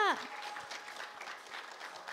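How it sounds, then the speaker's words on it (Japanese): Applause from a studio audience on a Japanese entertainment program, a soft steady patter of clapping that follows a brief voice at the start and continues quietly. "拍手でお送りください"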